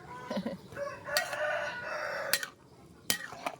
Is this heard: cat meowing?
no